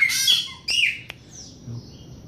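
A chopi blackbird (pássaro preto) gives a few loud, close, bright chirps and whistled calls, separated by short pauses, with no talk over them.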